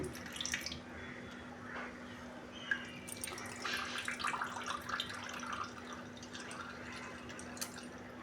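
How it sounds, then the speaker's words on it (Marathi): Excess water strains from boiled cauliflower through a cloth, a soft continuous trickle and dripping of water, close and fairly faint, with no talk. "आता मी ह्याचं एक्स्ट्रा पाणी गाळून घेत आहे।"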